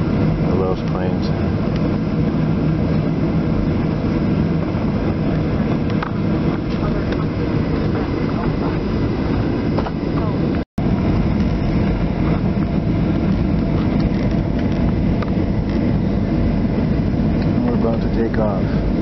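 Airliner cabin during takeoff, a larger passenger plane: a loud, steady engine roar and broadband rumble fill the cabin throughout, with a brief dropout midway.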